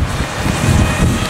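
Steady outdoor wind buffets the microphone in low rumbling gusts, continuous and fairly loud, with a faint high whine running through it near a drone flying field.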